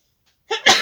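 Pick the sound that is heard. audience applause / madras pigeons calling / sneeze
sneeze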